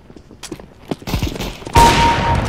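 Gunfire crackles in Counter-Strike: Global Offensive, a few sharp shots and footsteps followed by a louder burst of rapid fire toward the end.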